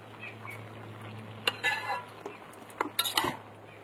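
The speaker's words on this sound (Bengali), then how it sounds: "এই দেখুন নাড়াচাড়া করে নিয়েছি ভালো করে" Cabbage curry being stirred in a cooking pot, with a scattering of light scrapes and clinks from the utensil against the pot over a steady low hum, quiet and close.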